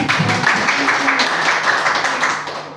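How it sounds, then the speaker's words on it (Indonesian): An audience at an Indonesian school regional language and literature dissemination event applauds in a dense wash of clapping, moderately loud and sustained, fading slightly toward the end with voices mixed underneath. "Tepuk tangannya mana?"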